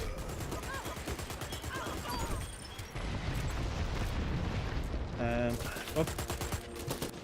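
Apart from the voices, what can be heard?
gunfire in the video game Dirty Bomb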